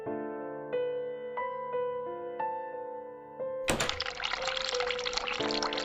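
Sink tap in a video game set in a room, turned on: tonal clicks and chimes give way to a loud, steady rush of running water that continues to the end.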